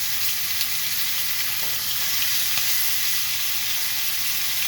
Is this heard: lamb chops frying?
yes